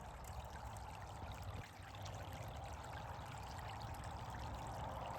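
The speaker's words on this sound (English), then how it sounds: "You'd swear there was a creek running through here." Floodwater streaming through a wooded yard like a creek, a steady rushing trickle and pour heard close and continuous, fairly quiet, with a brief dip partway through.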